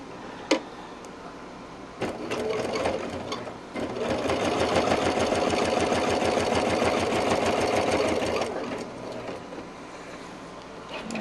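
A sewing machine basting seams on a quilted market bag, its rapid needle chatter running steadily for several seconds, close and fairly loud, with a short start and brief pauses, no talking.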